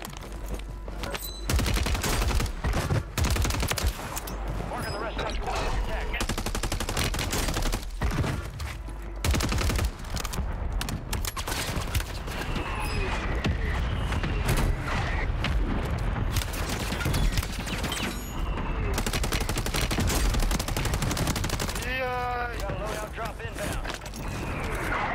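Heavy video game gunfire on Rebirth Island in Call of Duty, with repeated bursts and single shots of a Sidewinder rifle going off throughout, loud and close, under frequent talking.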